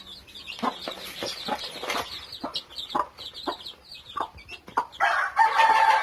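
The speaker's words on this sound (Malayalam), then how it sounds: "ഇതിൽ രണ്ട് കരിങ്കോഴി കുഞ്ഞാണ്" Aseel and black Karinkozhi chicken chicks cluck and chirp in quick, repeated bursts close by, with a shriller run of calls near the end and no talking.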